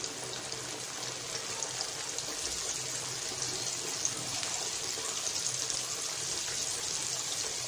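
Pieces of breaded chicken for a zinger burger sizzle in hot oil, a steady, soft hiss with fine crackle throughout, faint and continuous with no voices.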